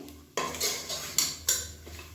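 A spoon scrapes and stirs curry masala powder in a metal pan, with a few distinct clinks and scrapes at irregular intervals, close and fairly clear with no talking.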